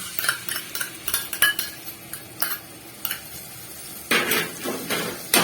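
A spoon or spatula stirs and scrapes aloo dum with yogurt in a pan, with irregular clinks and scrapes over a faint simmer and a burst of louder scraping toward the end.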